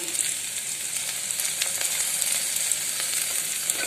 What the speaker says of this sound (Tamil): பச்சை மிளகா போட்டு வதக்கலாம்.